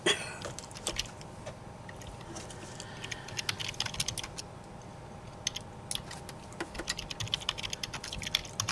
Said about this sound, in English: What the fuck's with the angry typing?